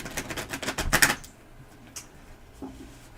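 Tarot cards are shuffled in a quick series of crisp, rapid riffling clicks for about a second, followed by a couple of soft taps in near-quiet.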